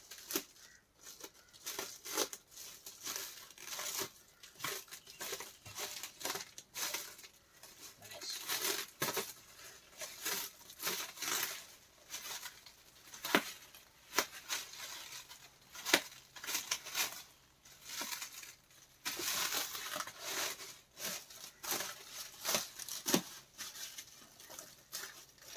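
Packaging being cut open with a knife and scissors, with busy crinkling, tearing and snipping in irregular bursts, close but fairly quiet, with no voices.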